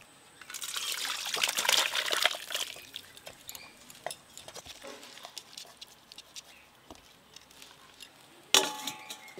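Garam masala paste loosened with water is poured into a thin mutton curry, a brief liquid trickle and splash early on followed by faint pattering and clinking, then a sharp close knock near the end.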